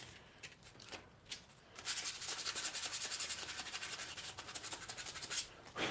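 Steady hand abrasion on the bolster of a forged knife, a faint, close scratchy rubbing that starts in short strokes and then becomes a quick, continuous rasping.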